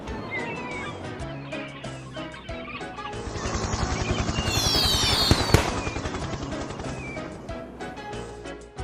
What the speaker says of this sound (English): The crate broke open and the fireworks set themselves off, fizzing and whizzing everywhere.